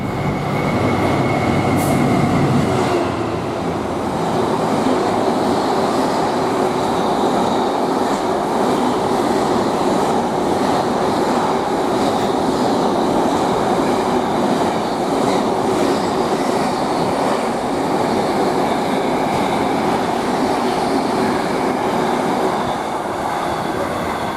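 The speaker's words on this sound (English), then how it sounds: "the next train to pass by, we've got a Coatbridge Daventry Class 66, 430" A Class 66 diesel freight train rolls past close by at Nuneaton on the West Coast Main Line, a loud, steady rumble with rhythmic clattering wheels and occasional metallic squeals that never lets up.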